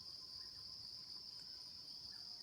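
Insects chirp steadily outdoors near a farmhouse and sheep pen after rain, a continuous high, even shrill drone with no gaps, faint and at a distance, with no voices present.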